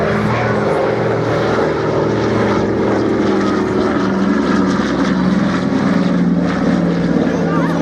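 Piston-engined warbirds such as a P-47C Thunderbolt and TF-51D Mustang flying past at an air show at Biggin Hill, a loud steady propeller drone with a shifting pitch, holding for the whole stretch with faint voices underneath.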